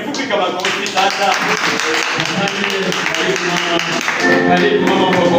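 Church congregation clapping their hands together in a steady, loud mass that carries on the whole time over singing voices and music.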